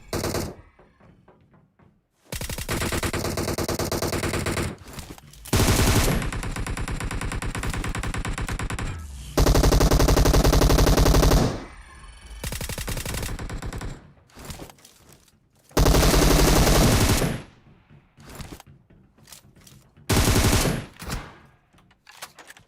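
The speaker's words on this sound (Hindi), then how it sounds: "देखो अभी भी ऊपर से गोलियां चल रही थी" Gunfire in the battle royale video game PUBG Mobile, with loud, dense bursts of rapid automatic shots in several long stretches, separated by short quiet gaps and scattered single shots.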